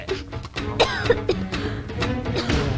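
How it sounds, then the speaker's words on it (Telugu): A few short coughs and throat sounds in a noisy room, with a voice and background chatter mixed around them. "దగ్గు వినిపించింది అంటే మన లైన్లోకి వచ్చేసిందన్నమాట"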